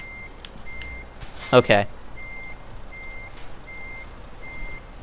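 A truck reversing in the Euro Truck Simulator 2 video game, its reversing alarm beeping at a slow steady rhythm over a low engine idle, with a brief spoken word midway.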